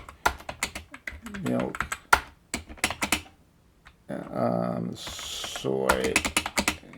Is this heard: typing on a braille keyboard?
yes